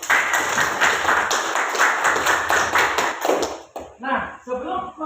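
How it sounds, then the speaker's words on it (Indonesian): Classmates applaud in an Indonesian classroom, a lively burst of many hands clapping close by for a few seconds, then trailing off into scattered claps as a voice speaks over the last part. "Silakan berikan aplaus untuk temannya"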